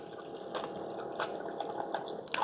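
Cold brew coffee is poured into a tumbler full of ice, a soft trickle with scattered clinks and crackles of ice over a quiet steady flow, ending in a brighter clink; no talk.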